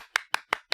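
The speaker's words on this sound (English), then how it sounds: "Can we do a little clap" Four quick, evenly spaced hand claps, crisp and close, with near silence between them.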